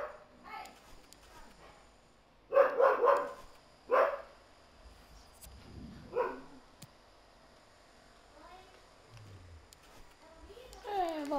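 A dog barks indoors in a few loud bursts of two or three woofs, spaced apart, with quiet stretches and faint voices between them.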